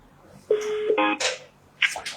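A short run of telephone keypad tones: one long steady tone and then a quicker one, followed by brief higher beeps, against a quiet background.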